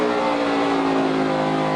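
NASCAR race cars roar through the final corners in a close finish, a loud, steady engine drone with layered tones holding throughout.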